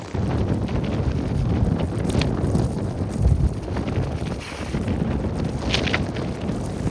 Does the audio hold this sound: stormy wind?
yes